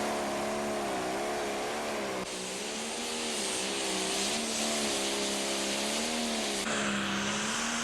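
A pro stock pulling tractor roars through its run at an ATPA tractor pull in Henry, Illinois, a loud, sustained, close engine blare whose pitch wavers and dips, with no talking.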